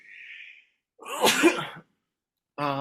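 A single abrupt, breathy sneeze bursts out after a faint hiss, followed by a brief voiced sound at the end.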